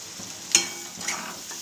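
Spices roasting in hot oil for a drumstick (shevga shenga) curry, a soft steady sizzle broken by a few brief scraping stirs of a spoon in the pan, close and fairly quiet with no talking.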